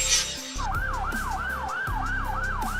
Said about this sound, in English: This is a police car.